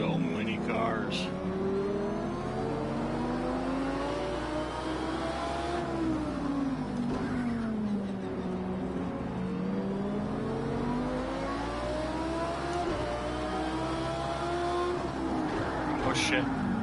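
Race cars in the Project Cars 2 racing game, engine tones sweeping up and down continuously as a pack of cars accelerates and shifts, with a voice talking over the steady engine drone.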